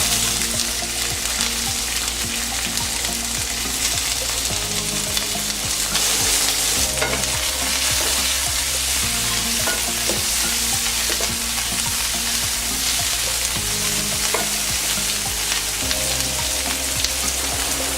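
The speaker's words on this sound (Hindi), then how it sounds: "अब हम इसमें कटी हुई शिमला मिर्च और प्याज डालेंगे।" Chopped capsicum and onion fry in hot oil in a pan, a steady, loud sizzle with stirring scrapes running throughout beneath background music.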